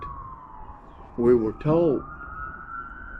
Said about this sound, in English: if y'all can hear them sirens in the background